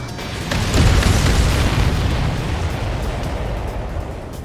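Heavy explosions roar as tankers are destroyed in the flight combat video game Ace Combat 7, a loud sustained rumbling blast that swells and then slowly fades.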